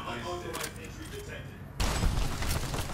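A gunshot rings out in Fallout New Vegas, a sudden loud blast cutting in midway and leaving a dense, booming rumble, after a stretch of in-game voices talking.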